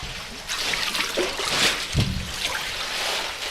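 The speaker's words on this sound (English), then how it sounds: "So right now we are filling up the ice bath with the ice." Water and ice pour into an ice bath, a continuous splashing, trickling wash with a few clunks of ice, fairly close and steady with no clear voices.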